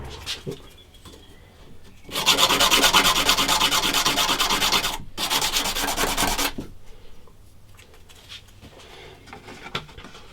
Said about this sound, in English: I think sandpaper will do the job better.